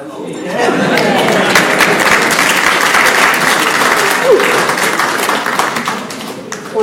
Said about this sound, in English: Join me in a large round of applause and thanking our insightful panellists.